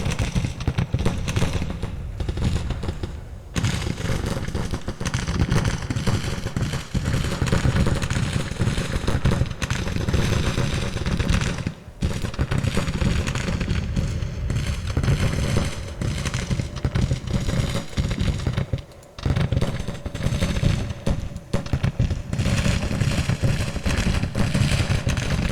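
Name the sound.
artillery and gunfire in Grand Tactician: Civil War video game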